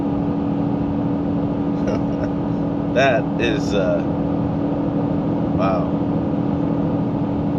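A 2024 Honda Ridgeline towing about 1,000 pounds uphill, its engine revving near 5,000 RPM through a downshift, gives a steady, loud drone throughout while a man makes brief exclamations over it.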